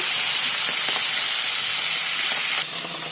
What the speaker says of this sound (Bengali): আমি মাছ ভাজা বসিয়ে দিয়েছি প্রায় হয়ে এসেছে